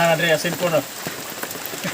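Steady rain patters on a surface with scattered drop ticks on a muddy rural road, while a voice speaks over it at the start.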